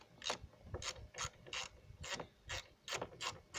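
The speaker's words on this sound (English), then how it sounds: "we'll take the torque and we'll" A Torx ratchet tool is undoing the screws of a side mirror on a 1993–1996 Ford Mondeo. It makes quiet, close, evenly spaced clicking bursts, about eight strokes in steady rhythm, with no talking.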